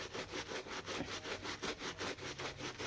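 A brush scrubs hard across a suede shoe with a leather star patch, in quick, steady back-and-forth strokes that rasp close and loud throughout, with no talking.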